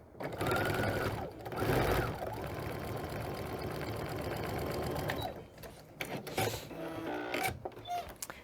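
A sewing machine stitches a diagonal seam corner to corner across a quilt block, running steadily for about five seconds with a rapid mechanical chatter, then stopping as the fabric is turned, leaving a few short handling sounds.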